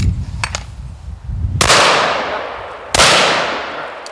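Two heavy, booming blasts from an Ithaca 12 gauge shotgun in the video game Alan Wake 2, each followed by a long decaying roar, preceded by quieter footsteps and clicks.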